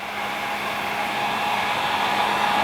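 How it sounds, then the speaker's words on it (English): Hair dryer blowing steadily to heat a plastic car under-part repair, a constant close whooshing whine with no breaks and no talking. "then heat it up with your hair dryer for about 30 seconds"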